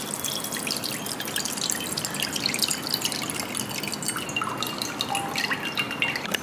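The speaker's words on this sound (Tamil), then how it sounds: "இந்த அரிசியை கழுவும் போது நல்லா கையில் அரிசியை நல்லா அழுத்தி விட்டு நம்ம கழுவணும்" Rice being washed by hand in a bowl of water, the grains pressed and rubbed, gives a steady wet sloshing with scattered drips and small splashes, close and continuous, with no talking.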